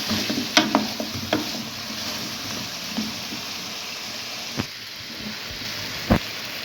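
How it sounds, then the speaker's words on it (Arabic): Potatoes fry in a pan with onion, garlic and spices for a chicken and potato tray dish, producing a steady close sizzle broken by several sharp clacks of a spoon stirring against the pan. "انا سبت كده البطاطس اتشوحت كويس مع البصل والثوم والتوابل اللي انا ضفتها"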